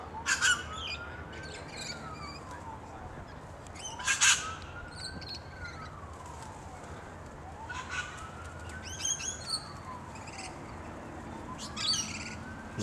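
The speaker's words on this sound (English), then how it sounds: "Red wattle bird, or wattler as we call them." A red wattlebird calls from a suburban street tree, with harsh squawking bursts standing out over a steady background of other birdsong and a repeating rising whistle.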